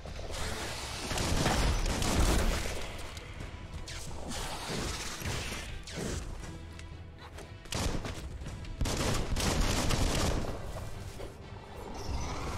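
Gunfire in the video game Biomutant, loud bursts of shots mixed with crashing impacts and whooshes in uneven clusters, with short lulls between volleys.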